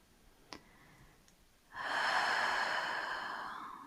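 A slow breath during a beginner hip-opening yoga session: a faint click, then from about halfway a long, steady airy exhale that stays fairly loud and slowly fades, with no talking.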